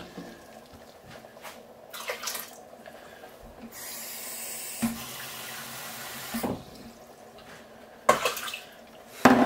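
Water running from a kitchen tap while making homemade tomato soup, a steady broadband rush in the middle of the clip, with clattering and handling noises before and after it.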